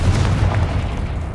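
A Confringo fire spell blast from Hogwarts Legacy, a loud, deep booming explosion that rumbles steadily through the whole short moment, close and heavy.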